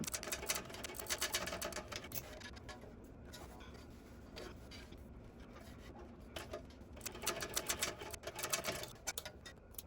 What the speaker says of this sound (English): this is just basting it in place. So I'm going to start at the bottom and baste all the way around